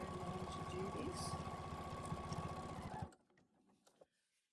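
A sewing machine stitches a tote bag in a fast, even rhythmic chatter for about three seconds, then stops abruptly, leaving only faint handling clicks.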